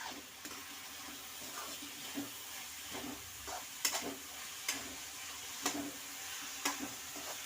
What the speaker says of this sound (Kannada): ಹೀಗೆ ಫ್ರೈ ಮಾಡ್ತಾನೆ ಇರಬೇಕು, ಅದು ಸ್ವಲ್ಪ ಫ್ರೈ ಆಗೋ ತನಕ.